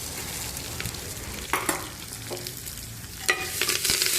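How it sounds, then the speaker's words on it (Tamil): Onions and chilies frying in oil give a steady, moderate sizzle with occasional sharper crackles and stirring scrapes, no voices over it. "வெங்காயம் மிளகா எல்லாத்தையும் போட்டுக்கோங்க."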